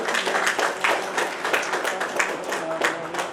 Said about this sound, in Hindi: जोरदार तालियों से आपको सम्मान करें